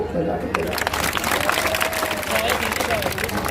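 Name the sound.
crowd applause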